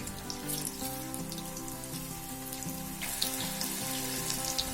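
Tapioca chips deep frying in hot oil, a steady soft crackling sizzle with scattered bubbling pops, fairly quiet and continuous with no voices.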